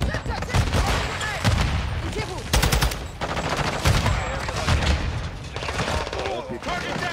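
Rapid automatic gunfire in Call of Duty: Modern Warfare II during a hardpoint match, continuous and loud with sharp bursts and a boom, with players talking over the shooting.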